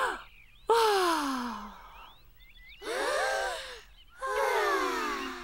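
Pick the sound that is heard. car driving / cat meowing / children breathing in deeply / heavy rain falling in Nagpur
children breathing in deeply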